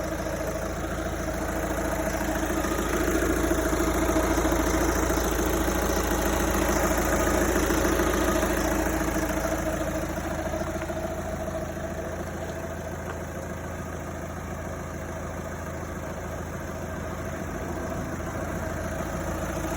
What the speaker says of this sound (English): So this got the 2-liter TDI turbo diesel 4-cylinder.